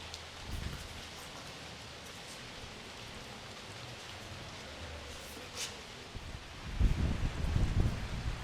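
Rain falls steadily outdoors at an onion harvest, a soft hiss of drops with scattered louder taps and a brief gust of wind or rustle near the end.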